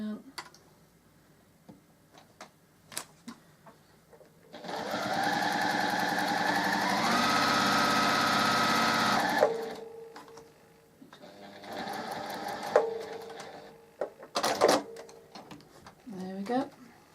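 A sewing machine runs steadily for about five seconds while stitching a quilt block, then a second shorter run follows, both surrounded by clicks and handling noises.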